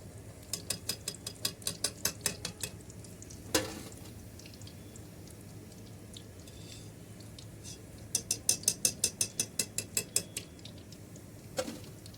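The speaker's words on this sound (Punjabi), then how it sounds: "ਲਓ ਜੀ ਹੁਣ ਆਪਾਂ ਕੱਢਦੇ ਆਂ ਕੜਾਈ ਤੋਂ ਬਾਹਰ ਚੰਗੀ ਤਰ੍ਹਾਂ ਸਿੱਕ ਕੇ" Fried malai kofta lifted from hot oil in a kadai with a metal spoon, two runs of quick clinking taps against the pan with sizzling underneath and a couple of sharper scrapes.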